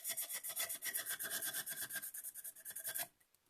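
Sheets of 220 grit sandpaper rub around the rim of a cup to clean off leftover epoxy, making quick back-and-forth scratchy strokes at close range that stop abruptly near the end.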